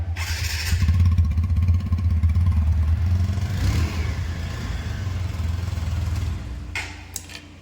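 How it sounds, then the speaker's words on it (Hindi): A TVS Apache motorcycle in a bike showroom runs close by, its engine thrumming with a deep, steady, pulsing beat that gradually eases off, with a few sharp clicks near the end. "मैं स्टार्टिंग का इसका साउंड सुनिए"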